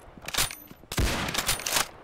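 Gunfire in the Roblox shooter Arsenal during a trick shot, with dense bursts of shots in two clusters split by a brief gap, loud and close.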